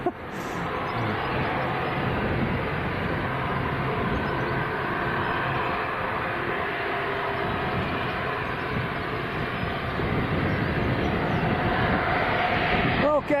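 An Aer Lingus ATR 72 turboprop lands at Leeds Bradford Airport, its engines and rushing roar loud and steady throughout, with a brief rise in noise near the end.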